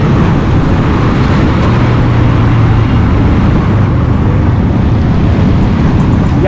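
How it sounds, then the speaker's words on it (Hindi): Dense road traffic rushes past at speed on a busy city street, a loud continuous roar of engines and tyres with no clear pauses. "से गाड़ियाँ तेज़ी से गुजरती हुई।"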